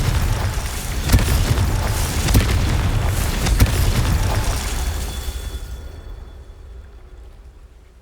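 A Confringo fire spell explosion from Hogwarts Legacy booms loudly with several sharp cracks inside a roaring burst, then rumbles and slowly fades to quiet.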